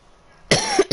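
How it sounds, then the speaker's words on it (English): A man who is sick coughs once sharply and close up, followed by a brief second cough. "I'm a little bit sick right now, so I'm going to be coughing occasionally."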